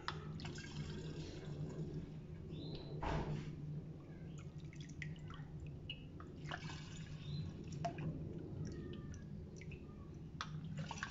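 Homemade nocino walnut liqueur runs through a fine strainer and is bottled, heard as a faint, continuous trickle and drip of liquid with a few soft knocks of glass and utensils, close and quiet.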